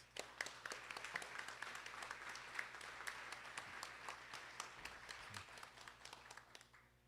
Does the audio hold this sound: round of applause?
yes